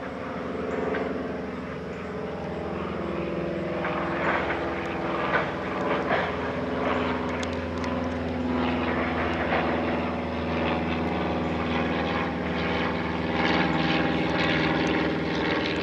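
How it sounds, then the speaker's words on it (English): A propeller airplane drones steadily overhead above a wetland, its engine a loud, sustained hum that swells slightly as it passes, with no voices. "that's a plane going"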